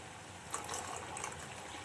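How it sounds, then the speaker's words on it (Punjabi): White vinegar trickles in a faint, steady pour into a pan of boiled used tea leaves, with no talking. "ਹੁਣ ਆਪਾਂ ਇਹਦੇ ਵਿੱਚ ਪਾਵਾਂਗੇ ਥੋੜਾ ਜਿਹਾ ਸਿਰਕਾ ਪਾ ਦਾਂਗੇ ਆਪਾਂ ਚਿੱਟਾ ਸਿਰਕਾ"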